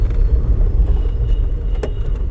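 Driving-school car pulling away in second gear, a low steady engine rumble close by with a faint knock near the end and no talk.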